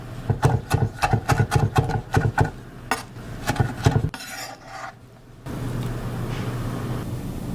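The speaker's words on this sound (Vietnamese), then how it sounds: "Mình băm nhỏ ra một trái để chút nữa mình xào cho thơm nghe." A knife mincing a ripe red tomato on a cutting board gives a quick run of crisp, close chopping strikes, then a short scraping rasp and a steady kitchen hum, with no talking.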